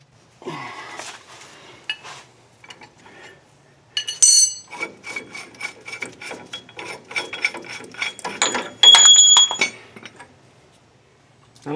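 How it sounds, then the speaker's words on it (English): A wrench ratchets on a ball joint bolt of a Mitsubishi Raider/Dodge Dakota, giving close bursts of quick clicking pawl ticks with metallic clinks between quieter pauses. "I'm going to start with the wrench,"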